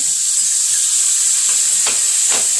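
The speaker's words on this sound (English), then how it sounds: "I just wanna saute this shrimp because I don't want it to be uncooked in here" Shrimp sautéing in a pan for Haitian-style shrimp fritters gives a steady, loud sizzle and hiss with a couple of brief stirring scrapes near the end.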